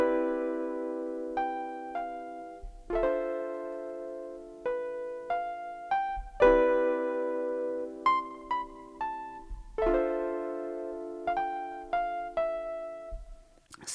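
Chord inversions played on a Maschine Plus / MK3, a steady sequence of sustained keyboard-like chords shifting in pitch, each attack clear and ringing, with brief higher melodic notes layered on top, alone and fairly close.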